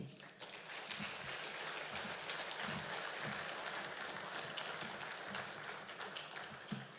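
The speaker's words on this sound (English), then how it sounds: "I think she deserves a better round of applause than that" A summit audience claps at the end of a speech, steady dense applause of moderate loudness spread across a hall for several seconds, fading near the end.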